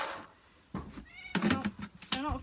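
An outdoor cat being fed kibble meows loudly and insistently several times, close by, with some rustling and clatter between the calls.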